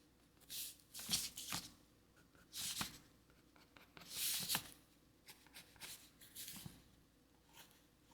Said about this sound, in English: See if any of these pencil sounds kind of pick up.